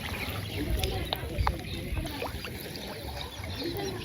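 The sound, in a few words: rowing boat moving on water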